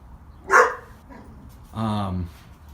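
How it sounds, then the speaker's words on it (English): Dog barking at lunchtime near a roadside stop, two short separate barks a second apart, fairly close and loud over low background noise. "that noisy dog is sitting over there because it's his lunchtime"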